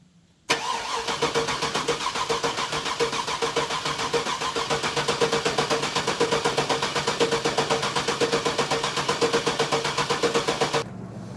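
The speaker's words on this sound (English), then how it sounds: "we'll just give her a few cranks and let her crank over a little bit" A freshly rebuilt 6.0 LS V8 cranks over on the starter with no fuel, a steady rhythmic churning that runs loud and unbroken for about ten seconds before cutting off.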